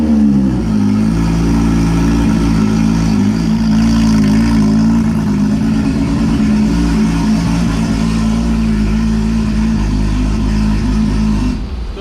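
A Toyota Supra fitted with a Precision Promod XPR 88/108 turbo runs loud and steady on a dyno, its engine droning at a sustained high pitch for the whole stretch before dropping off at the very end.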